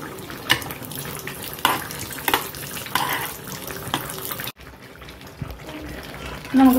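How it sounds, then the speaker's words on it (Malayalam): Cashew nuts frying in ghee in a pan while cooking rabbit biryani, a steady close sizzle and hiss running throughout, dipping briefly and then resuming near the end. "അപ്പോൾ നമുക്ക് ആദ്യം കാഷ്നട്ട് വറുത്തെടുക്കാം"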